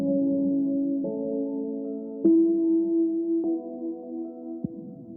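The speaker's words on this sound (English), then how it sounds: "Then we have this pluck, which is one of my favorite sounds in this track actually." Synth pluck from Output's Signal library sounding alone: a soft, mellow tone stepping through five sustained notes at roughly one-second intervals, each with a gentle attack and clean decay.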